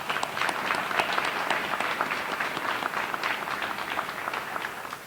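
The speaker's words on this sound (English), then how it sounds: "Let's all give him a round of applause." Applause from a crowd at a deputy fire chief's retirement ceremony with bagpipers present, steady dense clapping that holds for several seconds at moderate distance.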